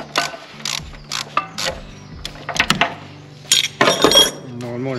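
A ratchet wrench loosens a 13 mm nut that sets belt tension, producing quick clicking runs and metallic clinks in short bursts with brief pauses between them, close and fairly loud, with someone speaking.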